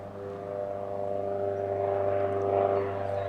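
A sports plane's propeller engine drones steadily and swells gradually as it speeds up for takeoff at Lelystad Airport. The engine sounds fairly close and carries on without talk.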